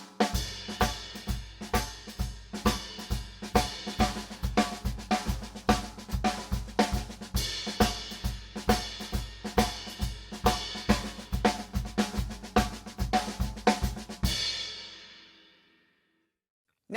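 A drum kit plays a paradiddle triplet fill pattern in a shuffle feel, with steady rolling strokes and regular accented hits for about fourteen seconds, then a decaying cymbal ring fades out.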